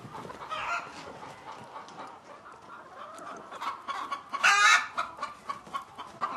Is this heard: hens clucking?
yes